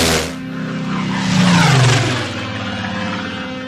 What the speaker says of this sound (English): the transport plane carrying Captain Gloval and Lisa Hayes approaches the secret headquarters of the United Earth Command